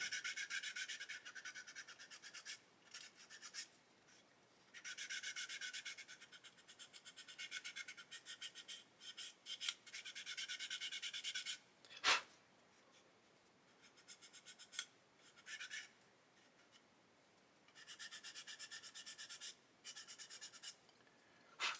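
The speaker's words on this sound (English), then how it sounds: "And then again with the sanding stick we'll just make sure there's no lumps and bumps of glue there" Close, rhythmic rasping strokes of a sanding stick rubbing a 1/32 scale plastic Lancaster bomber model, coming in bursts with short pauses and one sharp click partway through.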